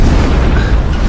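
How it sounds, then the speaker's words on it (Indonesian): A loud, deep explosion of a bomb-laden van in an Indian action film rumbles continuously, a heavy booming roar that fills the whole moment. "Nampak terdengar suara ledakan"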